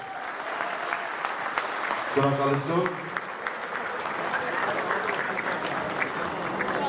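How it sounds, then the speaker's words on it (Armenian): Wedding guests clapping in a steady round of applause, moderately close, while a voice speaks briefly over the clapping partway through. "Բրավո, ծափեն ավելի բարձր"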